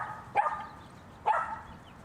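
Small dogs at the small-dog side of a dog park give two sharp barks about a second apart, fairly close, with a quiet outdoor background between them.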